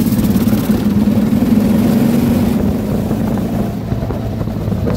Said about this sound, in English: turn the idling up a little